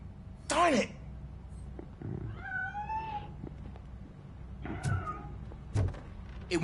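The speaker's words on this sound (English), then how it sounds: "That cat must be hiding inside." A cat meows several times in Robocop: Rogue City, with a few drawn-out cries and shorter mews spread across the stretch, close and fairly loud over low background ambience.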